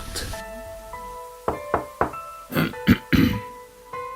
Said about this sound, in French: quelque temps après, vint heurter la porte.